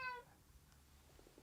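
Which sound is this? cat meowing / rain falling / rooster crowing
cat meowing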